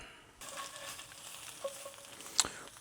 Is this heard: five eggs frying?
yes